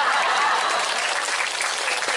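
An audience at a lighthearted Islamic sermon claps loudly and continuously, a dense wash of many hands that stays steady throughout before easing slightly at the end.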